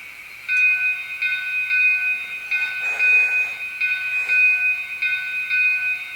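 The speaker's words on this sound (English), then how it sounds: "So go ahead and hit that bell." A Lionel toy train's electronic bell rings in a repeating pattern of bright, tinny chimes, fairly loud and close, with no talking.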